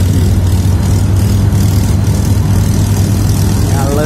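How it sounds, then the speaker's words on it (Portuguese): A speedboat and a small improvised motorboat made from a cut drum race on the water, their engines droning loudly and continuously as they accelerate, close and unbroken throughout. "A lancha agora acelerou pra ver se consegue passar, e ele também acelera"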